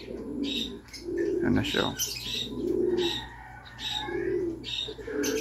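Racing pigeons coo with low, repeated throaty calls at a race arrival loft, joined by a few higher chirps and a brief flutter of wings. A person speaks briefly over the birds.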